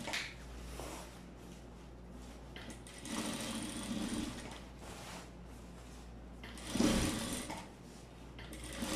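Sewing machine stitching the crotch seam of wide-leg, low-rise trousers, its steady whirring running in bursts of several seconds with short pauses between, close and fairly quiet with no talk.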